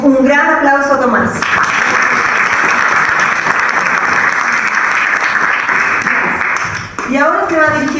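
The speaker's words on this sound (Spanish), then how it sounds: "les pido a todos que le demos un gran aplauso a Tomás" A large audience gives Tomás a loud, sustained round of applause at a farewell gathering, with a speaker's voice just before and after the clapping.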